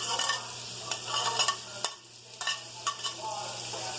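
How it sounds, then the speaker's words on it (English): Chopped celery and onion sauté in a pan for broccoli and cheddar soup, a continuous close sizzle broken by scraping stirs and brief bursts as the vegetables are moved around. "so we're going to saute this up"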